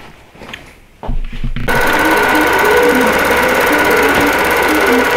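A sewing machine quilting sections of a wholecloth quilt, starting after a brief restart and running steadily and loud for several seconds with a dense, even mechanical whir.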